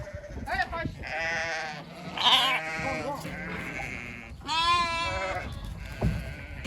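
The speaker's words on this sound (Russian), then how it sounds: "Мы загнали еще определенное количество баранов в вольер." Rams penned together in a sheep enclosure in Uzbekistan bleat loudly in several overlapping, wavering cries, close by and filling most of the moment with barely a pause between calls.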